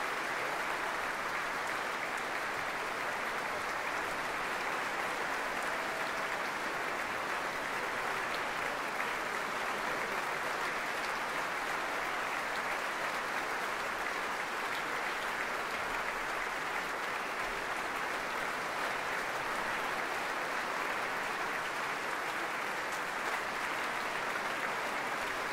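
A concert audience applauds an orchestra after Tchaikovsky's Symphony No. 5, a steady, dense wash of clapping that carries unbroken and fairly loud for the full length, with no voices on top.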